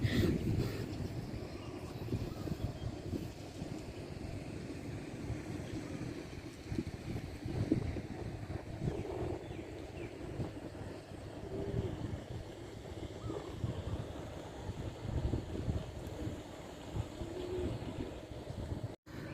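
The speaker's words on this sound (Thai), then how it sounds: "ครับท่านผู้ชมสภาพอากาศนี้ก็ลมแรงนะครับ" Strong wind blows over the Tha Chin River in Suphan Buri, a steady, loud roar with constant buffeting rumble against the microphone, heard alone throughout.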